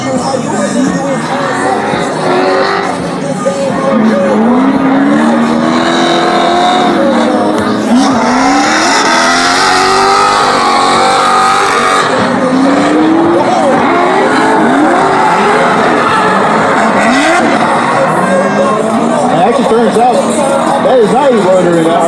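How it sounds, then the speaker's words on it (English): Mazda RX7 race car fitted with a turbocharged 1.6-litre Miata engine, running laps at a boost festival track, engine noise continuous and loud with tire squeal and a faint crowd murmur in the background. "One of the few rotary cars we actually have out here."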